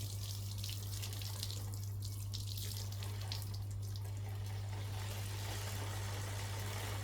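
Steady rushing pour of boiling water splashing onto a metal bike chain, continuous with a low hum underneath and no talking.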